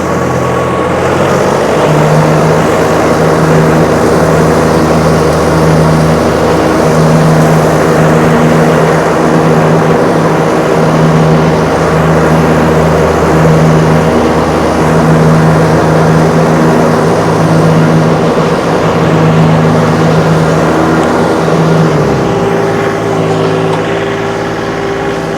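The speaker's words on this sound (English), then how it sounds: "Tractor does a nice job mowing." A 2022 John Deere 3033R compact tractor with a belly mower, 4x4 hydro drive, runs steadily while mowing, its engine a loud, constant drone with a low hum holding evenly throughout.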